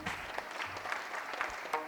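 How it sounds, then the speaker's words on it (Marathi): An audience at a Marathi devotional kirtan gathering applauds for the Maharaj: dense, steady clapping from many hands that holds a fairly even level for the whole stretch, with a few louder individual claps rising above the mass. "महाराजांसाठी टाळी वाजवा।"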